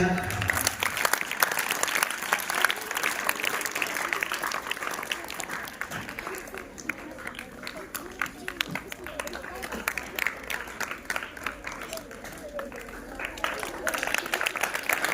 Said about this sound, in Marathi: टाळ्या पडतायत आपल्या